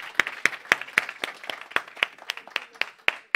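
Church congregation clapping in a steady, even rhythm of sharp, crisp claps about four per second, closely miked with some scattered softer claps between the main beats.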